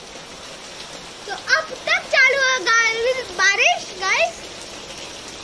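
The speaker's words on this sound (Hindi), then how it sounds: "सुबह से बारिश चालू है और अब तक बारिश आ रही" Heavy monsoon rain driven by wind makes a steady, even hiss that runs under someone talking throughout.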